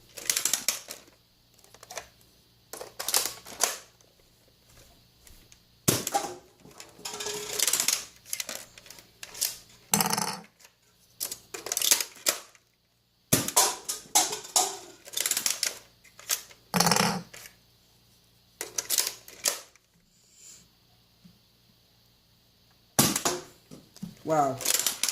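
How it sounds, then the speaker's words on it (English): A Nerf Sledgefire blaster is pumped and fired over and over, giving sharp mechanical clacks and ratcheting snaps in separate bursts with quiet gaps between them, while a person talks between shots. "Now I'm going to use the sledgefire."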